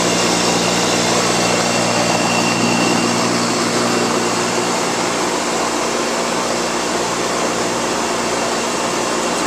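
An air-cooled chiller from 2004 with its internal pump running hums in a loud, steady, unbroken drone with a constant tonal whine, close by and without talk.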